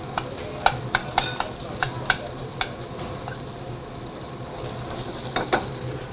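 Sausage browning in a pan for Polcari family mussels, St. Anthony's Feast style: a steady low sizzle underneath with scattered sharp pops and clicks of spoon or pan, moderately close and fairly quiet, no talking.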